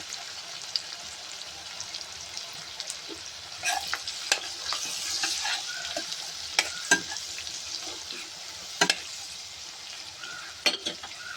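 Mutton curry with salt, turmeric and ginger-garlic paste sizzles in a pan, a steady frying hiss broken by scattered scraping clicks of a spoon stirring, close and moderate in level.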